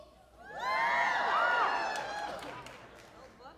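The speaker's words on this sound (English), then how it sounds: "Why are you clapping?" An audience at a talk claps and cheers, a swelling burst of applause mixed with shouting voices that rises quickly, holds, then fades away.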